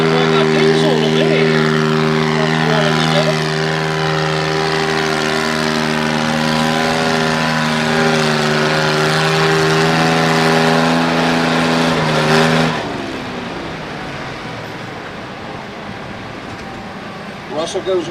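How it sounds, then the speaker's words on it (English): Diesel garden tractor at a tractor pull, roaring steadily with a strong harmonic drone for about twelve seconds before cutting out abruptly, leaving crowd and announcer noise behind. "Sounds like a diesel to me."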